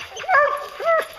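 A hunting hound at a bear hunt gives a couple of close, loud whimpering yips and barks, rising and falling in two short bursts with no talk over them.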